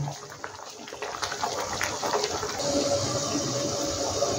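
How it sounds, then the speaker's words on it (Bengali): Chicken curry cooked in milk with green chilli bubbles under a lid, a continuous gurgling, watery simmer with soft pops that grows slightly louder, close by and with no talking. "এবার আমি এখানে ঢাকা দিয়ে মিনিট 5 আমি একটু ফুটিয়ে নিই।"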